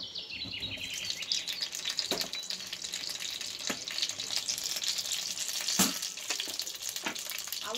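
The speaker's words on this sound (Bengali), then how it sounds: "আলুগুলো আমি লাল লাল করে ভেজে নেব।" Potatoes fry in hot oil until reddish, a steady crackling sizzle with occasional sharp clicks and scrapes from stirring, no voices present.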